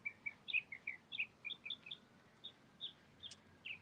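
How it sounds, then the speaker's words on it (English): Birds chirp and sing in quick, repeated bright notes, fairly faint against a low outdoor hum, beside Coffee Pot Bayou in St. Petersburg, Florida. "You guys hear the birds singing for you all?"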